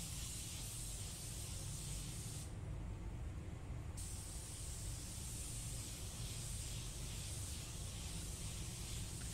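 Createx Candy2o candy paint misted from a spray gun as a light final dust coat over chrome, a steady close airy hiss that runs unbroken with a brief dip in the brightest part of the spray.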